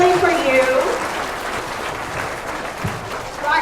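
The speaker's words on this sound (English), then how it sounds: "Give our veterans a big round of applause" An audience at an elementary school Veterans Day assembly claps for the veterans, a loud, steady wash of applause that eases slightly and then swells again, with a voice heard briefly at the start.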